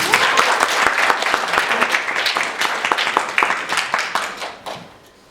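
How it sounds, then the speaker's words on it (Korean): Applause from a small congregation at a Korean Sunday church service, a few people clapping steadily and close by, the claps fading out at the end. "자 한번 박수 한번 해보면 어떨까요?"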